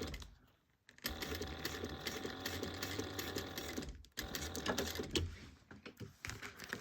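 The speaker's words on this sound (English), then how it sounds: "you're just going to stitch that on, and of course bend the stem to match the curve of the bag" A sewing machine runs steadily, stitching a fabric pumpkin stem onto a bag at an eighth-inch seam, in two long runs with a short stop between them.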